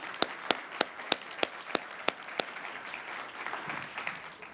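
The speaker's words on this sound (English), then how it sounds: "So let's give them a round of applause." Audience applause at a Brockton civic gathering about a city baseball field, with a few sharp isolated claps standing out over a steady wash of clapping that carries on and slowly thins.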